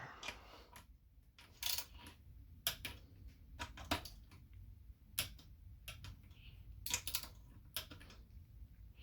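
A torque wrench tightens bolts on a 1998–2002 Honda Accord transmission valve body to 9 foot-pounds, making sharp, quiet, irregular clicks spaced through a hushed workshop.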